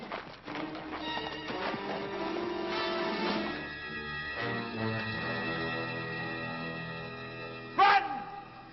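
Horses whinny and clop about in a scene involving a guarded cage, with a sharp loud neigh near the end over a steady background of music-like tones and faint movement.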